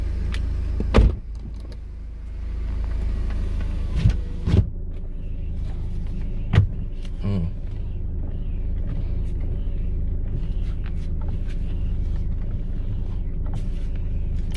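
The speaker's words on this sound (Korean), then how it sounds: "지금 시동 걸어가지고" A Renault Samsung QM5 engine idles with a low, steady rumble, broken by several sharp knocks and clicks from inside the cabin, fairly quiet and close, with no speech.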